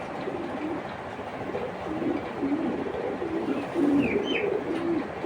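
A white grizzle female racing pigeon coos in soft, repeated low throaty phrases, close by, with a faint background hum and a brief higher chirp near the end.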